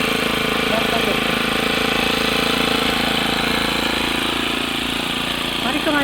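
A grass and brush clearing machine's engine runs steadily and loudly throughout, a continuous close motor drone with people speaking over it.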